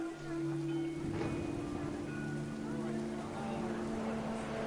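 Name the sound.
rain pouring, from the video game What Remains of Edith Finch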